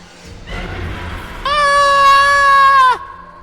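A woman lets out a shrill, sustained scream as a horror-story effect, close and loud, lasting about a second and a half after a fainter lead-in.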